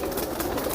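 High flyer pigeons cooing in a steady low murmur, a close continuous background of bird sounds with no talk.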